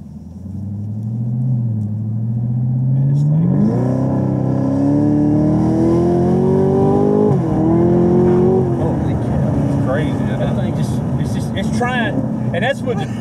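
A Chevrolet Camaro ZL1 accelerates hard from inside the cabin, its loud engine roar climbing steadily in pitch, dropping briefly at a gear change, then climbing again, with people talking over it.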